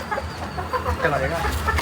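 Chickens cluck on a Jaffna farm, several overlapping calls near and fairly loud, with a voice talking through them.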